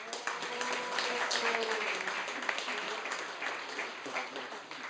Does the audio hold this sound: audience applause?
yes